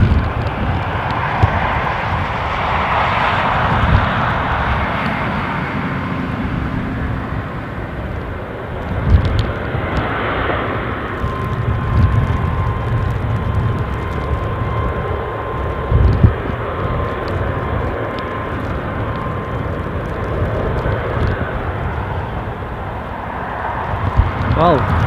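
A fixed-wing airplane approaching the runway at Newcastle International Airport, heard as a steady broadband engine roar and rumble lasting throughout, with people talking over it.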